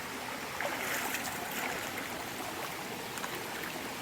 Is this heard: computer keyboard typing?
no